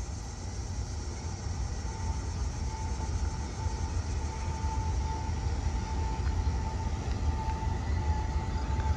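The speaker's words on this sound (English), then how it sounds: "This is one of the squeakiest freaking trains I have ever heard." A freight train rolls past with a sustained high metallic wheel squeal singing over a steady low rumble, loud and close, no voices.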